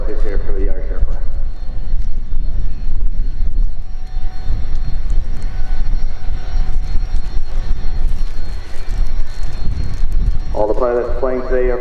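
A PC-9 propeller aircraft of the Irish Air Force display team flying at an air show, a loud steady engine drone throughout, partly under announcer commentary near the start and end.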